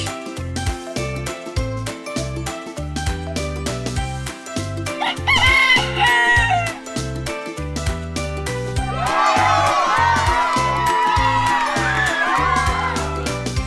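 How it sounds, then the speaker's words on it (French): A rooster crows twice, loud and close, each call a drawn-out, wavering cry rising over a bouncy music track that plays throughout. "Comment fait un coq?"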